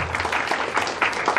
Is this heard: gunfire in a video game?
no